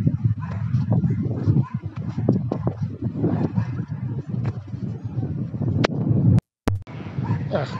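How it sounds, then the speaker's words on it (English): Low, blustery wind buffets the microphone on a city street in Polanco, Mexico City, rumbling steadily with a brief dropout near the end, while faint knocks and movement sit underneath. "Yeah, it's windy right now."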